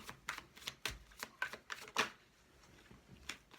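Oracle cards from a mirror oracle deck being handled and shuffled, a quiet run of soft papery flicks and snaps in an irregular rhythm, close and alone without talk.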